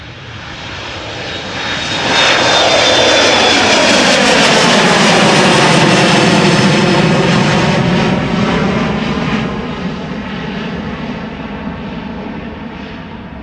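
A jet airliner departing from a runway at Amsterdam Schiphol Airport: a single loud engine roar that builds over a few seconds, peaks near the listener, then slowly fades as the plane climbs away.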